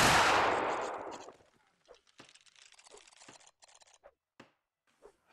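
A volley of rifles from 33rd Regiment of Foot reenactors at an Anglo-Zulu war event erupts in one loud roaring blast that rolls away, followed by quiet rustling and faint clicks of handled equipment.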